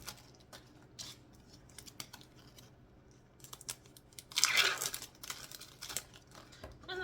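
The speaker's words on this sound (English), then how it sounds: "So then I'm going to open these string cheeses." Plastic wrappers on string cheese being peeled open in a kitchen, close crinkling and tearing in irregular bursts, loudest midway, with light clicks and rustles between.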